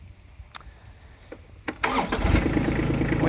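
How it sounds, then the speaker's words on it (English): A Massey Ferguson 1526 compact tractor's diesel engine cranks briefly and catches, then settles into a loud, steady close-up idle. "When you start this tractor"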